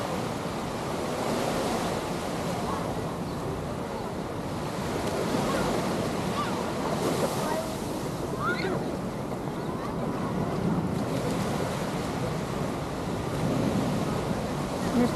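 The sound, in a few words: ocean waves on Waikiki Beach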